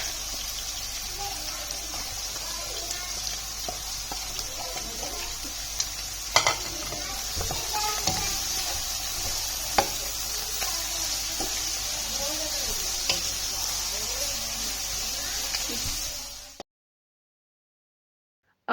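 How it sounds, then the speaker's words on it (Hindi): Vegetables for chicken chowmein stir-fry in oil, giving a steady, close sizzle with scattered scrapes and clinks of stirring before the sound cuts off abruptly near the end. "इन सब्ज़ी को हमने अच्छे से मिक्स कर लिया और ये अच्छे से फ्राई हो चुकी हैं"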